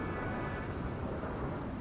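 Steady rain in the video game RimWorld, a continuous dense wash of noise with a low rumble, holding evenly throughout with no voices.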